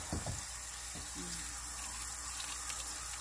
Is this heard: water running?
yes